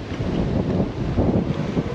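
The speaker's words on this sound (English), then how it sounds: "The wind's taking it out of me today. Very windy." Strong wind buffets the microphone on a windy bike ride, a steady low rumble with gusty swells throughout and no talking.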